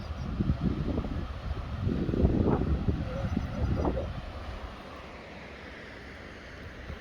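Rushing water at Waikaihi Falls roars steadily with gusty wind buffeting the microphone, loudest early on and then easing to a softer, continuous wash.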